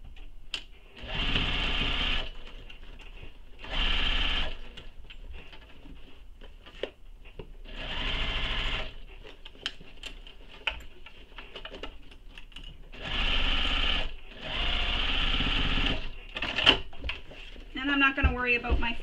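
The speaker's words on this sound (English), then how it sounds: "Add some clips and then we'll just sew straight across." Sewing machine stitching straight across a nylon bag's lining and gusset, several close bursts of rapid mechanical chatter separated by pauses, with quiet talk in between.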